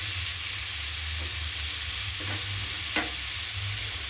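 Grated carrot and beetroot stir-fry in a pan, a steady soft sizzle broken by a few scraping stirs and one sharp clink of the spoon near the end, no voices.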